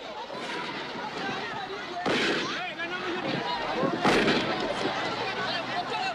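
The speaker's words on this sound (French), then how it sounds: "Des coups de feu claquent" Sharp gunshots crack amid a noisy crowd in Katanga, Congo, 1962, with loud bursts standing out from the chaotic shouting and commotion.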